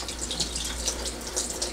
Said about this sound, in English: Let me run the water too.